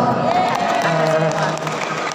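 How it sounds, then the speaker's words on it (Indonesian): Women at a routine Islamic study gathering clap together in a brief burst, a blurred crowd sound with voices and a sung or drawn-out tone running through it. "tepuk tangan."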